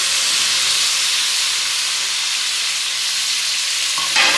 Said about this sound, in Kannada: ಕಾಲಿಫ್ಲವರ್ ಹಾಕ್ಬಿಟ್ಟು ಸ್ವಲ್ಪ ಫ್ರೈ ಮಾಡ್ಕೊಳ್ಳೋಣ.